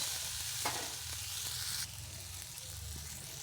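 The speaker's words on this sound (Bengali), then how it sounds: "টমেটোটা কিছুক্ষণ ভেজে নিয়ে আমি দিয়ে দিয়েছি সিদ্ধ করে রাখা আলু" Tomato paste fries in hot oil with nigella seeds and dried chilli, a steady close sizzle with stirring scrapes running throughout, a bit louder in the first half before settling slightly.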